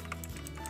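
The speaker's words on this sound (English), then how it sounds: "But this is the keyboard, the Razer Black Widow Chroma V2. Pretty nice. It is kind of clicky" A clicky Razer BlackWidow Chroma V2 mechanical keyboard being typed on, with quick, fairly quiet keystrokes tapping along without pause.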